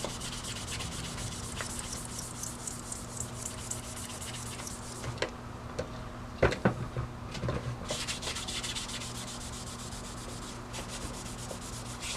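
Continuous close scrubbing and polishing on a Northwestern 60 coin mechanism, a steady abrasive rubbing broken by a few light clicks and taps, with no voices.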